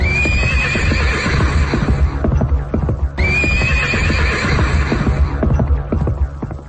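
A loud horse whinny with hoofbeats, standing in for a flying horse in a radio story, heard twice in repeating passes over a steady low hum.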